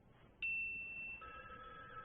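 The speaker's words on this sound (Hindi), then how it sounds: "प्लीज आपका फोन उठाइए, शायद कोई क्लाइंट होगा।" A telephone starts ringing with a sudden electronic tone that holds steady, then shifts to a second tone after about a second, heard clearly in a quiet room.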